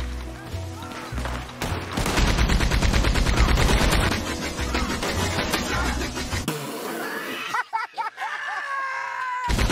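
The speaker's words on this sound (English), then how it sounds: "I found a Gatling gun." A Gatling gun in Red Dead Redemption 2 fires a long, loud, rapid burst of shots, which then breaks off into scattered isolated bangs and quieter game sounds.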